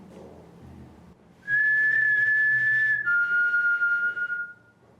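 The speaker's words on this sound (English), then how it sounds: "Did you just whistle?" A clear, sustained two-note whistle inside a church, the first tone held, then dropping slightly lower, loud against a quiet background.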